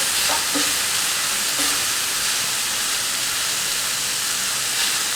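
Ground beef and peppers sauté in a hot pan with a constant loud hissing sizzle, a few soft stirring knocks near the start, and no voices.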